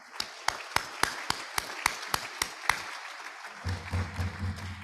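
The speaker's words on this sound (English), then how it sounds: "please give John and Kathy a round of applause" Sparse applause at a hybrid Rotary Club meeting: about a dozen distinct, fairly faint individual claps in an irregular rhythm, then a low hum takes over as the clapping fades.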